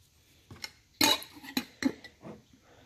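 Freeze-dried strawberries are dropped into glass mason jars, giving a handful of sharp, close clinks and rattles in quick irregular bursts, with quiet gaps between them.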